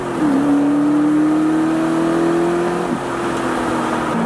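A car with exhaust cutouts revs loudly, a sustained droning engine tone held steady near the microphone before dropping briefly and settling back, loud and alone.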